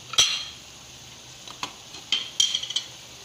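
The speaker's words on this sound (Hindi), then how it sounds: "ये फ्राई प्याज डाल रही हूँ मैं," Fried onions drop into a biryani pot with scattered metallic clinks and scrapes of a spoon against the vessel, a few sharp taps then a small cluster of rattles over a faint background sizzle.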